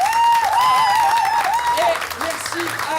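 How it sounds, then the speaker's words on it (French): Theatre audience applauding at the close of an amateur stage production: loud, steady clapping that fills the whole stretch, with a voice or tonal sound riding above it. "On vous demande d'applaudir très chaleureusement Marie qui nous a mis en scène"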